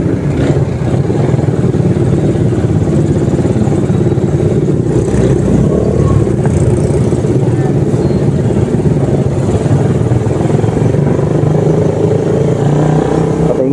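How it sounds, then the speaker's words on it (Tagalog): Heavy road traffic of cars and motorcycles, including bikes overtaking on a drizzly road, makes a dense, loud, continuous engine rumble with revving and clatter close by. "Sobrang traffic pa naman."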